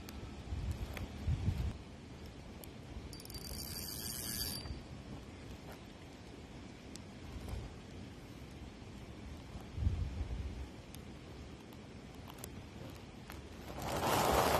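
Steady outdoor wind rushes and buffets the microphone, with gusty low rumbles swelling and easing throughout, and a louder gust near the end.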